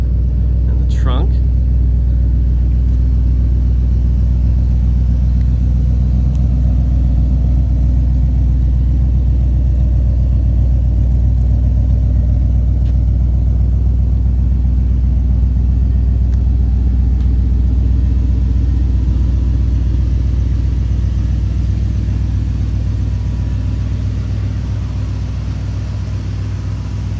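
A 1967 Oldsmobile Toronado engine runs steadily with a deep, continuous low rumble, loud and close throughout, holding an even idle-like drone with no clear revving.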